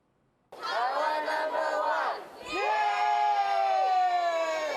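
Huge crowd of baseball fans at Taoyuan International Airport celebrating Taiwan's championship win, bursting into a loud roaring cheer, dipping briefly, then surging again into sustained shouting and screaming close by.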